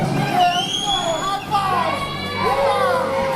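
Loud, continuous roar of a hometown wrestling crowd in Fort Dodge, Iowa, cheering and shouting during a street fight, with voices and whoops rising and falling over a steady din.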